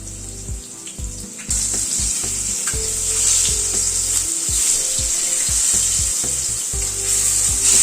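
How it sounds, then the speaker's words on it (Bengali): Potatoes frying with salt and turmeric in a pan for a chicken curry, a steady bright sizzle that jumps louder after a moment and keeps hissing, with occasional stirring knocks. "নুন হলুদ দিয়ে আলুটাকে ভেজে নিচ্ছি।"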